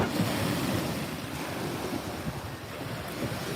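Wind gusts over Lake Wakatipu in Queenstown, a loud, continuous rushing roar buffeting the microphone with low rumbling throughout, no voices.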